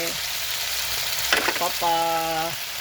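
Chicken skin sizzles and crackles steadily in hot oil, a loud, constant frying hiss that fills the whole stretch, with a brief clatter partway through.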